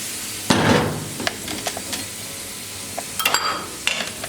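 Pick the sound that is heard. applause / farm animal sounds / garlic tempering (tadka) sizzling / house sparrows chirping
garlic tempering (tadka) sizzling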